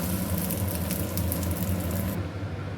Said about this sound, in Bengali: এবার আমি তাওয়াতে ছেড়ে দিলাম। মিডিয়াম আঁচে আস্তে আস্তে করে ভেজে নিতে হবে।